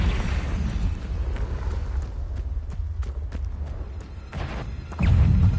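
Explosive Confringo spell blasts in Hogwarts Legacy: a rumbling roar of combat with several sharp cracks and impacts scattered through, then a heavier boom surging near the end, loud and close.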